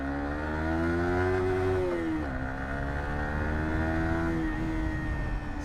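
Yamaha R15 V4 motorcycle engine pulling steadily under way, a loud continuous whine that dips briefly and then climbs again, with constant wind and road roar and no talking.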